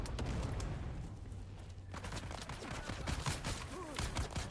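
Grenades burst in the Dune Awakening game amid rapid gunfire, a chaotic run of sharp cracks and thuds that thins briefly and then picks up again.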